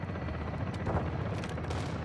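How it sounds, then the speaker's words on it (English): Video game gunfire crackles continuously through a dense, busy battle mix with explosions or rumble beneath, steady and fairly loud with no clear separate shots. "Where are they shooting at me from?"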